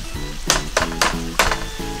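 Grated garlic sizzling in a frying pan while Sapporo Ichiban noodles are prepared as yakisoba-style ramen: a steady close hiss with several sharp stirring scrapes of a utensil against the pan, no talk.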